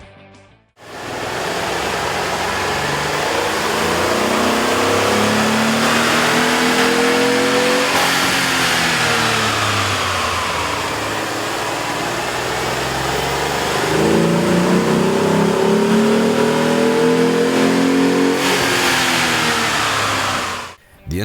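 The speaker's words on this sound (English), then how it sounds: "we ran the vehicle on the dyno to test the sound comparison versus the stock intake" A Jeep Liberty 3.7L engine with an aftermarket air intake revs loudly and continuously on a dyno, rising and falling twice in pitch as it accelerates and eases off, close and dominant.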